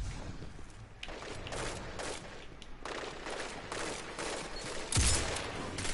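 Rapid gunfire from the Destiny 2 video game during a Quickplay match, several bursts and shots cracking close and loud across the span, with a heavier blast near the end.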